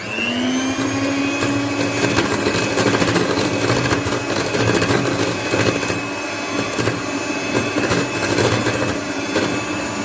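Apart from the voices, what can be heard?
electric beater whipping cream with vanilla essence at full speed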